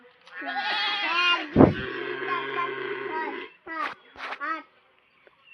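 Several goats bleat close by, a long wavering cry with a voice overlapping briefly, followed by two shorter bleats and a pause.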